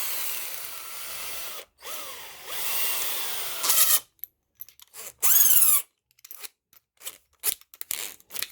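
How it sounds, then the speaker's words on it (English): A small drill bores through a greasy trailer hitch extension, starting with steady grinding runs that stop and restart, then breaking into short, scattered bursts and crunches, all close and without talk. "I'm going to use a small drill first to go through"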